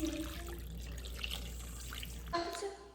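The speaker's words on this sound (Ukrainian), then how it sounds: "Заливаємо все холодною водою, так, щоб овочі покрились" Cold water pours from a tap over vegetables in a cooking pot to start a broth, a steady close-up rush and splash that changes pitch briefly near the end.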